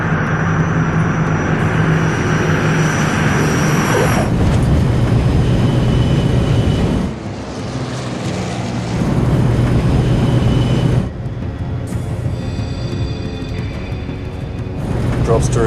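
An airliner touches down and its engines roar into reverse thrust, a loud, rushing jet blast that surges, briefly drops, then swells again as the aircraft slows on the runway, with voices heard at moments over it.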